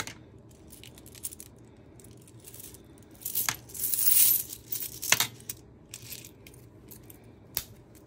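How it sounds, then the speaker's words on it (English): Coins dropped into a coin jar, making a scatter of metallic clinks and jingles that build into a brief dense rattle, then a few isolated drops, close and fairly quiet. "let me put my coins into my coin jar"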